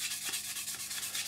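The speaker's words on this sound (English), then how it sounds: "with a sanding stick." Quick back-and-forth rubbing strokes of a sanding stick on a scale model scrape close up, a soft rhythmic rasp repeating several times per second.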